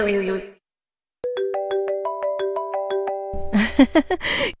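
A melodic electronic phone ringtone plays a repeating pattern of clear tones, with brief talk before it and voices starting again at the end.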